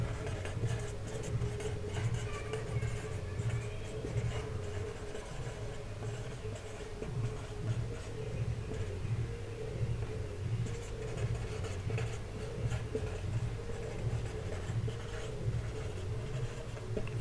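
A teacher writes on a classroom board, giving a faint, continuous scratchy writing sound with a soft steady rhythm over low room hum, and no other sounds standing out.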